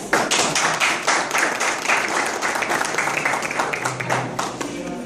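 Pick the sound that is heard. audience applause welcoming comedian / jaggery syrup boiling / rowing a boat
audience applause welcoming comedian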